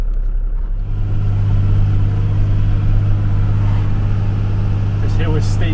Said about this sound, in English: This hill is steep, but we're in first gear.